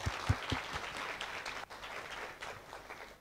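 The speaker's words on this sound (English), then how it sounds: "Can you please give him a round of applause as well?" Audience applause at a live-broadcast panel debate in Namibia, a steady wash of many hands clapping at moderate distance, with a few louder close claps at the start, fading slightly toward the end.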